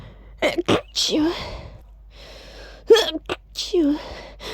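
Loud, close human sneezes come in two groups, each burst a sharp explosive exhale after a rising gasp, with breathy noise trailing off between them.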